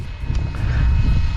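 FLYWING BO 105 radio-controlled model helicopter in flight, a short steady low-pitched whirring motor and rotor drone that holds at a constant level and grows slightly louder.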